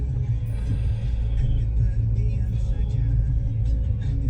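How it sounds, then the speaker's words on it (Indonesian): Heavy traffic on a congested street in Makassar, Indonesia, fills the scene with a steady low rumble of idling and creeping vehicle engines, close and continuous, with some faint voices blended into the background. "Macet ya teman-teman,"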